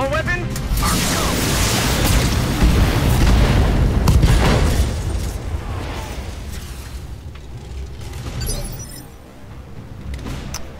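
A Jagermech under concentrated weapons fire aimed at its arms in a mech combat video game: a loud, sustained barrage of booming blasts and shattering impacts that thunders for several seconds, then tapers into rumbling debris and machinery noise.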